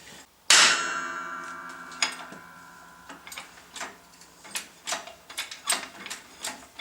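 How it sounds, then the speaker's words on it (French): A press forces the bearing and crankshaft out of a Solex 3800 moped engine: one sudden loud crack, followed by a scatter of sharper metallic clicks and ticks at irregular intervals. "pour enlever le Villebrequin, j'ai mis ça à la presse"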